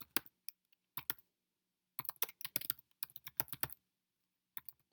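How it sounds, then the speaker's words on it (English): Close, fairly quiet typing on a computer keyboard, with scattered single keystrokes and then a quick cluster of clicks before the sound tapers off to a few final taps. "and I could type in"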